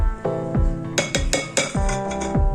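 Metal utensil scraping and clinking in a pan while beaten eggs are mixed into cooked vegetables for an omelette, a series of sharp clinks and scrapes at an uneven rhythm, close and fairly loud, with no talking.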